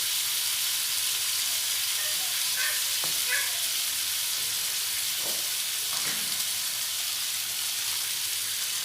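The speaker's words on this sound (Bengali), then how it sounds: "দিয়ে খুব ভালো করে আলুগুলো ভেজে নেব।" Diced potatoes with turmeric and salt fry in a pan, giving a constant, loud crackling sizzle throughout, broken by a few soft scraping stirs.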